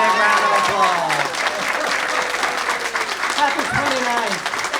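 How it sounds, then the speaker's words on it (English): Audience applause at the opening of a new Kenton County Library branch in Latonia, Kentucky, a steady, dense wash of clapping from a crowd lasting throughout, with voices talking over it at the start and near the end. "let's give her a big round of applause"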